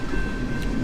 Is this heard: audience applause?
no